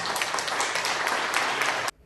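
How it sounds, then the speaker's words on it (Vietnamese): Dense applause from a studio audience at a televised English quiz show, cheering a contestant, steady and fairly loud before stopping abruptly. "Chúng ta cũng vẫn nổ một tràng pháo tay để chúc mừng cho nỗ lực của Minh Ngọc trong phần thi về đích vừa rồi."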